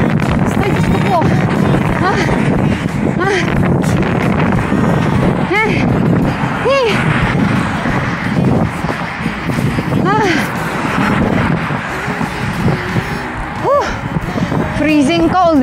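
Strong wind roars steadily into the microphone during a cold New Year's ride, a loud continuous buffeting rush with voices chattering through it.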